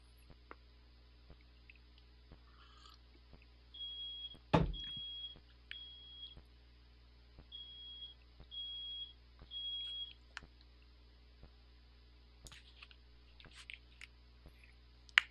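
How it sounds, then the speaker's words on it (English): A high, thin electronic fire alarm beep repeats in short bursts about every second, fairly faint over a steady low hum, with a sharp knock just before it starts. "It's like the fire alarm going off."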